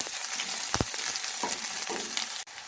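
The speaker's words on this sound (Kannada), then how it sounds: "ಫ್ರೈ ಮಾಡ್ಕೊಳ್ಳಿ." Garlic, onion and chillies frying for a dried prawn chutney give a close, continuous sizzle, broken by a few scraping stirs and a sharp knock near the end.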